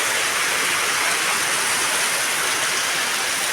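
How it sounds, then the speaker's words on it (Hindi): Dense, constant hiss of heavy rain pouring down, loud and unbroken, with no voices or other sounds. "कितना खतरनाक बारिश हो रही है।"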